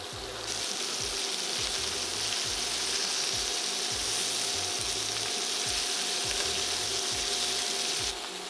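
Bacon-wrapped shrimp sizzle steadily in a frying pan, a continuous loud hiss with a faint low rhythmic clatter underneath, no voices heard.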